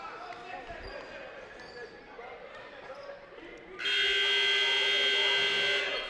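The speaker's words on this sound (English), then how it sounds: "that'll do it as the buzzer runs" Basketball arena crowd noise and a bouncing ball give way to a loud, sustained electronic buzzer ending the game, holding steadily to the end.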